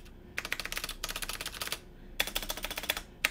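Rapid clattering of a mechanical keyboard being typed on, including its space bar, in two dense bursts separated by a pause, close and fairly quiet with no talk.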